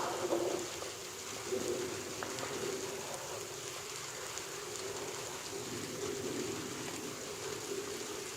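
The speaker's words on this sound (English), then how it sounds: "I knew it was supposed to rain today, but I didn't realize it was going to rain right now." Rain falls outdoors in a steady even hiss of drops, moderately loud and continuous with faint bird calls in the background.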